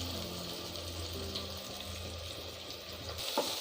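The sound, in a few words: frying mint leaves in a pan for paneer pulao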